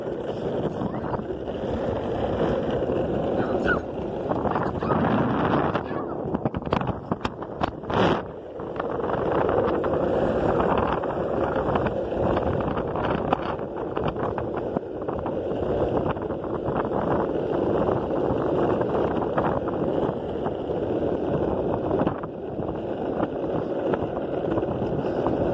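A headwind blows straight into the microphone during an outdoor ride, producing a loud, steady, rumbling wind roar that buffets continuously throughout with brief gusty dips.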